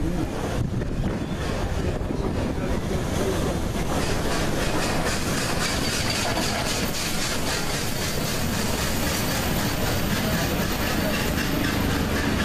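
Steam locomotive 6233 Duchess of Sutherland hauls its train past at speed, a loud continuous rush of wheels and carriages with rhythmic clickety-clack and heavy wind buffeting the microphone throughout.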